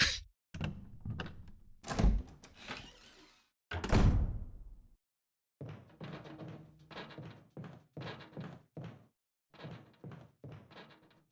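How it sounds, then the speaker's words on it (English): Knocking on a window in Resident Evil HD Remaster: a series of dull thuds and raps, first in irregular heavy bursts, then after a short pause a steadier run of evenly spaced knocks, close and fairly loud. "I hear him knocking on the window still."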